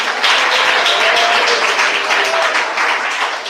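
A church congregation claps and applauds together, a dense steady wash of hand claps filling the room for several seconds without letup.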